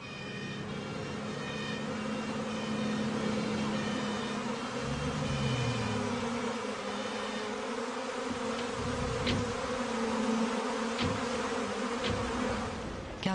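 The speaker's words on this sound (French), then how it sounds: "Car ce sont bien les abeilles," Disoriented honey bees buzzing steadily and up close, a dense continuous drone holding for the whole stretch with no talk.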